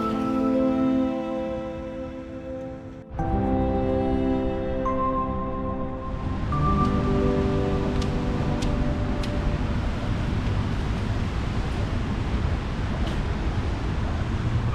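Rain falls steadily on a muddy campsite, a constant broadband hiss that takes over after a quieter, more tonal opening.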